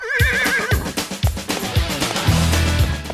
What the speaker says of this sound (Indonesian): Di sini ada dua jenis kuda yang diperuntukkan sebagai alat transportasi tradisional.